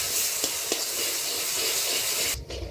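Soaked fenugreek seeds sizzle steadily in hot ghee in a kadhai for laddus, a dense, close frying hiss with a couple of soft stirring clicks, cutting off abruptly near the end.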